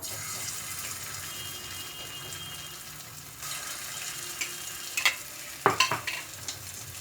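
Two teaspoons of ginger garlic paste fry in oil in a pan for dum aloo, a low continuous sizzle with a few sharp clatters of stirring near the end.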